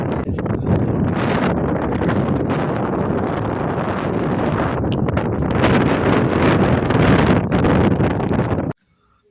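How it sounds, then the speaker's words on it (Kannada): Strong wind blowing outdoors by the water, buffeting the microphone with a continuous loud roar and rustle that gusts and swells for several seconds before cutting off abruptly. "ಅವತ್ತು ಗಾಳಿ ಎಷ್ಟು ಚೆನ್ನಾಗಿ ಬೀಸ್ತಾ ಇದೆ"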